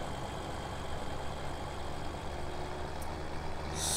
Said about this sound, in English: This tractor does take a little while to get going.